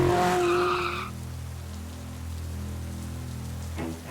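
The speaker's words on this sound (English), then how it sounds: "I borrowed my dad's sports car." A sports car in a Roblox video game skids to a stop with a harsh, rushing tire screech that fades into a steady low engine rumble, ending with a brief scrape.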